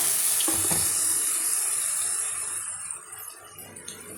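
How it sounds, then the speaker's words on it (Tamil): Water poured into a pan of frying chicken leg curry, a broad hissing rush and sizzle that starts loud and gradually eases over about four seconds, with no talking. "இப்போ தண்ணி ஊற்றிடலாம்."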